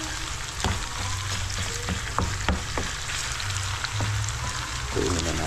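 String beans (sitaw) sautéing with longganisa sausage in a hot pan, a steady dense sizzle with scattered crackles and pops and occasional stirring clinks throughout.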